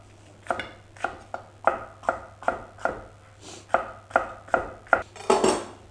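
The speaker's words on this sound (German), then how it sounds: "Und nachdem die Kernchen alle entfernt sind, schneiden wir die einfach auch in breite Streifen." A kitchen knife slices bell peppers into wide strips on a board, about a dozen crisp, evenly spaced chopping strokes close by with no talking.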